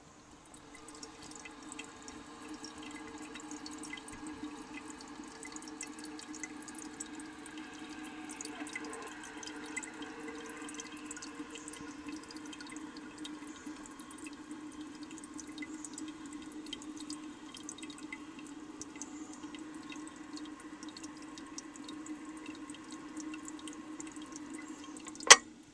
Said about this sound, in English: I'm going to shut the water off when the level reaches the top of the guide.